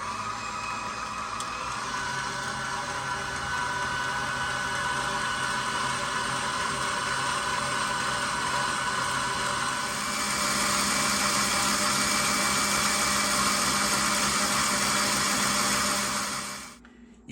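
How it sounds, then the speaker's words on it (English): Electric mixer whipping cream to stiff peaks, a steady loud motor whine and whirr that rises in intensity partway through, then stops abruptly at the end, with no talk. "I'm gonna have to turn that up and start whisking some air in there."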